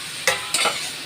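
Tomatoes drop into a hot pan for a Bengali cauliflower, potato and fish curry, setting off two quick, sharp bursts of sizzling that settle into a softer crackle, with no talking.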